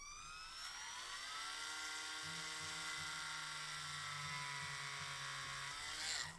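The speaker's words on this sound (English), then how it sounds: "we're going to drill our small hole first" A small drill bores a hole in a plastic S.H. MonsterArts Gigan toy figure, a high continuous whine from a close motor that dips in pitch as the bit bites, lasting several seconds before winding down.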